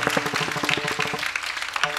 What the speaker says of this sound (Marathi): जोरात टाळी वाजवा बरं